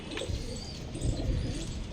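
Pigeons kept by a pigeon fancier in the Old City coo softly in a low, murmuring ripple, close by and continuous, with faint chirps and rustling around them.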